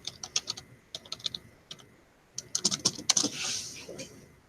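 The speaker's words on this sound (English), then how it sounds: "So now I can just type in my password, which should be the same." A password typed on a computer keyboard, two quick runs of crisp key clicks separated by a short pause, close and clear with no talk.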